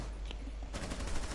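Rapid bursts of automatic gunfire in a multiplayer shooter match near a turret tunnel, quieter at first, then a dense, loud stretch of repeated shots in the second half, with no talk.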